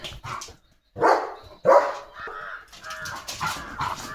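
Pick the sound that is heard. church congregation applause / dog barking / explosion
dog barking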